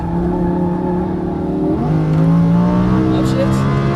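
Race car engine on a track, loud and close throughout, revving hard with an audible gear shift partway through that drops the pitch before it climbs again.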